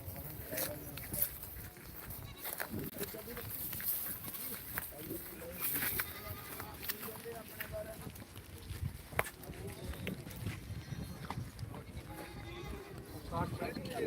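Goats bleat at a busy goat market in Dhanaula, Punjab, heard through steady crowd chatter, shuffling footsteps and general market bustle.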